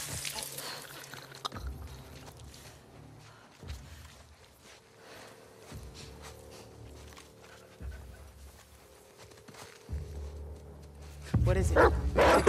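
A dog in the video game The Last of Us Part II gives several short barks and yips spaced a couple of seconds apart over low ambient game rumble, ending in a louder burst of noise.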